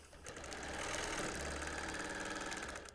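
A sewing machine runs steadily for about three seconds while free-motion quilting a T-shirt quilt, its fast needle hum continuous and close, with no voices.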